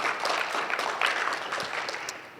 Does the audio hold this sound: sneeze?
no